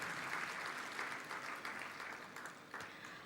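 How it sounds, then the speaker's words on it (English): Audience applause at an inter-religious meeting during the exposition of the relics of St Francis Xavier, a short burst of fairly faint, steady clapping from a hall crowd. "Can we once again put a thunderous round of applause to the participants?"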